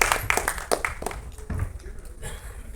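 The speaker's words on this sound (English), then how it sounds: "So round of applause for Vishal Saini." Audience at a trailer launch event clapping, with a handful of sharp, distinct claps up front that quickly thin out into quieter, scattered applause.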